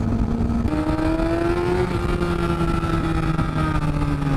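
A 2008 Kawasaki ZX6R motorcycle engine held high at around 8000 rpm, a loud steady whine whose pitch climbs slightly and then holds, close and continuous throughout.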